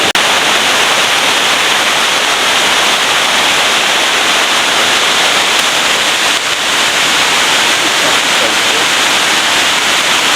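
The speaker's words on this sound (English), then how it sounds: "Get a nice breeze off the waterfall as well as it's falling" Jungle waterfall at Kanching Falls near Kuala Lumpur, Malaysia, pouring into a pool with a loud, close, continuous hissing roar that holds steady throughout.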